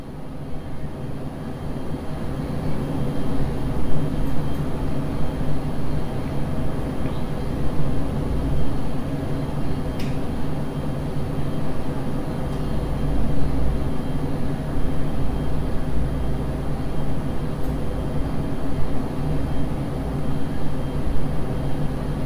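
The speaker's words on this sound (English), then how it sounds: "Glorious morning landing at Mumbai International Airport." Airliner on final approach to Mumbai International Airport in Microsoft Flight Simulator 2020, a steady loud engine drone and rumble holding evenly throughout with no voices.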